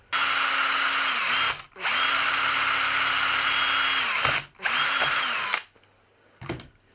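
A power drill whines loudly in two long bursts, each winding down briefly, then a quieter pause and a couple of short final spurts.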